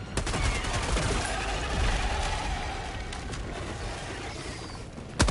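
Sustained automatic gunfire in Helldivers 2, a dense, fairly distant rattle of shots with scattered louder cracks and a sharp report at the end.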